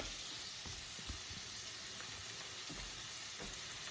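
Vegetables sauté in a soup pot ahead of adding pre-cooked ham, giving a steady, fairly quiet sizzling hiss with light stirring thumps, close and unbroken.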